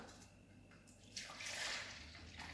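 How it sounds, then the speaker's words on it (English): Milk being poured out of a container to measure it, one liter, for homemade ricotta: a steady liquid splashing rises after a quiet start and keeps running close by, with no talking. "So first we need to measure out our milk."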